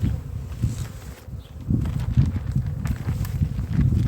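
Honey bees buzz close by at a beehive during a feed check: a steady low drone of wings, with a brief dip partway through and soft handling knocks.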